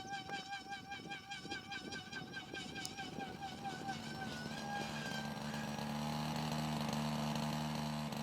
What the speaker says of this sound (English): The sound of the chainsaw engines reverberates through the air